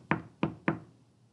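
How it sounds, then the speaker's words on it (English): Three sharp knocks on a brick house, evenly spaced and close, each ringing briefly before fading, with no voices. "I knocked on the bricks house."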